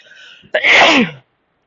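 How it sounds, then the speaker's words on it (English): One loud, close sneeze with a sharp intake of breath before it, then silence. "I've been sneezing so much lately"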